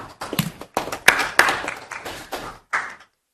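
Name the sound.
applause for the police chief at a council meeting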